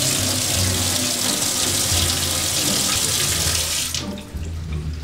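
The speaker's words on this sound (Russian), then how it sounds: "промываю ее под струей воды" Strong tap water running into a sink to rinse a glucose meter test strip, a loud steady close gush that cuts off near the end, with no talk.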